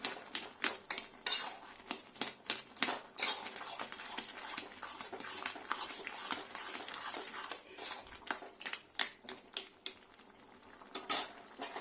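Gourd with poppy seed and mung dal, plus a few potatoes, stirred and mashed in a pot: rapid, uneven clinks and scrapes of a metal spoon against the pot, close and continuous, with short pauses.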